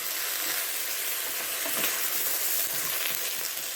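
Garden squash cooks down in a pan with a steady, close sizzle and frying crackle, occasional stirring scrapes mixed in, with no talking.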